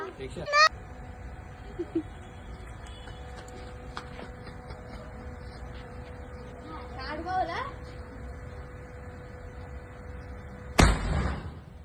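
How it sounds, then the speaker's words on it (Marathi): Sky shot firework at a Diwali celebration: a sharp launch pop early on, then one loud close burst near the end over steady outdoor background noise, with people chatting around. "चला आता आपण स्काय शॉट फोडूयो"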